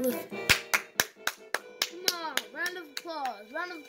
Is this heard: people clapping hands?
yes